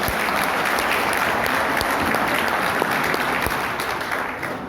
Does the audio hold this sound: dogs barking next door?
no